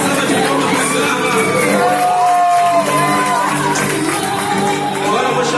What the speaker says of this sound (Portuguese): Uma salva de palmas para Carla.